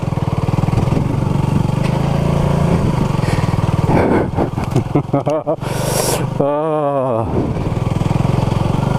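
A Honda CB250RS motorcycle climbs a rough green lane, its engine droning close and loud, then stuttering and dipping as the rider works over the ground, with a brief spoken exclamation.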